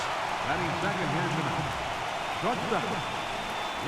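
Rain falls steadily during a baseball game in MLB The Show 18, a soft continuous patter under a commentator's voice talking throughout.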